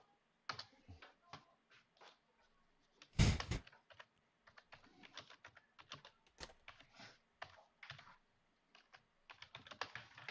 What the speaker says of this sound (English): I'm not a super quick typer.